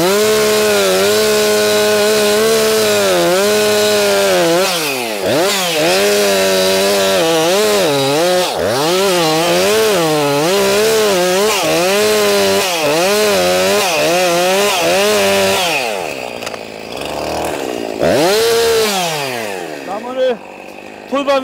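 A chainsaw cutting through a felled chestnut tree on a farm, its engine loud and close, rising and falling in repeated revving bursts as it bites into the wood, then easing off near the end.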